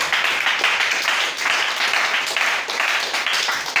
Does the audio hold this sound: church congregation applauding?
yes